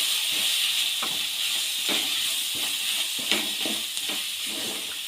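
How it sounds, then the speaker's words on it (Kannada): Chili powder, garam masala, coriander powder and turmeric sizzling in a pan over a medium gas flame for egg keema, a steady close hiss broken by the scrape of stirring. "ಹಸಿ ಸ್ಮೆಲ್ ಹೋಗೋವರೆಗೂ ನೀಟಾಗಿ ಹುರ್ಕೊಳ್ಳಿ"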